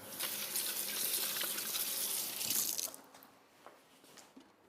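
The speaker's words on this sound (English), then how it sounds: "just go and wash my hands." Running tap water splashes over hands at a kitchen sink for a few seconds, then the flow stops and leaves a few faint drips and small handling noises.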